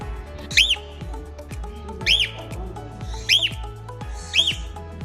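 Four sharp, piercing cockatiel squawks come at regular intervals, close and loud, over rhythmic background thumps and clatter in a clinic setting.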